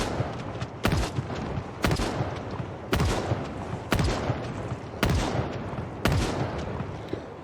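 Pistol fire in Project Zomboid: six loud, sharp shots spaced roughly one second apart in a steady rhythm, each with a short ringing tail, alone with no talk.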